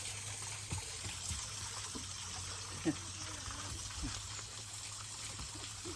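Water flows in a waterside garden, a soft steady trickle and rush heard faintly at a distance, continuous throughout, with a few light bumps and no clear talk.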